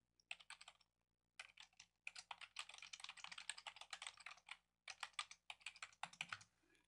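Fast typing on a computer keyboard to sign in to an account, close and quiet, with bursts of rapid key clicks separated by short pauses.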